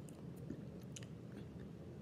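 Close, faint crunching of someone chewing a light, crunchy corn snack, with soft irregular bites and mouth sounds and no talking.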